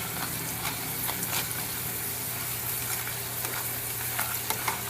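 Homemade potato chips fry in hot oil on high heat, a steady, dense sizzle with scattered crackles and pops running throughout, fairly close and alone.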